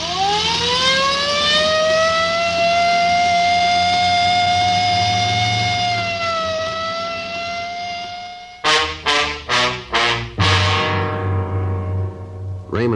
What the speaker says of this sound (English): I better use the light and siren, Frank.